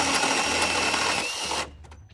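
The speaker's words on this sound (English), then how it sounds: "then we will go ahead and drill the ends out" A power drill bores holes during a Miata cold air intake installation, a loud close whirring burst lasting under two seconds, then stopping abruptly with a few faint clatters.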